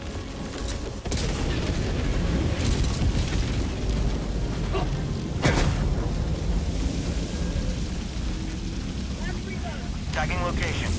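A Helldivers 2 hellbomb goes off as a heavy, rumbling blast that dominates the whole stretch, with sharp bursts and crackles scattered on top and in-game voices calling out over the din.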